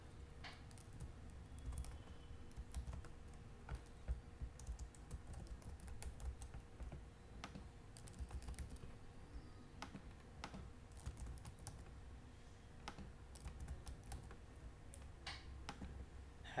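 Registration details are typed on a computer keyboard, a quiet, irregular run of light key clicks with brief pauses over a faint background hum.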